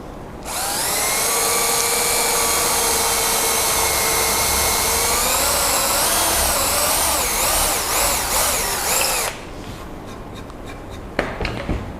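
A power drill whines loudly and steadily for several seconds, its pitch wavering as it bores into wood, then cuts off, leaving faint clatter.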